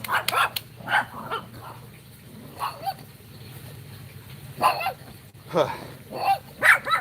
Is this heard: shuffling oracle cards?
no